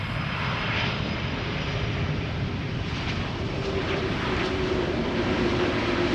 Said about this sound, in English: There it is. Typical KLM landing.